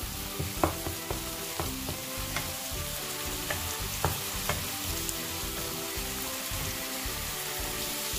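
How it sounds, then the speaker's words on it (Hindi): Masala for baingan bharta fries and browns in a pan with a dense, rain-like sizzle that stays even throughout, marked by a few soft stirring taps early on. "और इसे अच्छी तरह से फ्राई करेंगे। अब इसे अच्छी तरह से हम ब्राउन करेंगे।"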